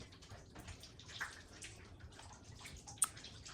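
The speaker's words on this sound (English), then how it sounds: "there is water falling from my living room ceiling" Water dripping and trickling from a leaking living room ceiling, faint irregular splashes with one sharper drop near the end, quiet and without speech.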